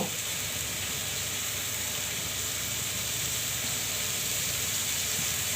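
Masala paste sautéing with salt in a pan for a katla fish, pumpkin and tomato dish makes a constant, even frying hiss, close and moderately loud, with no voices.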